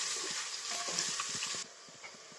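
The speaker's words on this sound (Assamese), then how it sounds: "এতিয়া মই আদা নহৰু পেষ্টখিনি ইয়াতে দি অলপমান ফ্ৰাই কৰি ল'ম" Ginger garlic paste sizzling with fried onions in a pan, a soft steady crackle broken by repeated spoon stirs, the sizzle dropping quieter partway through.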